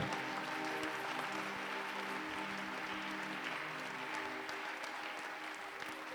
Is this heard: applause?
yes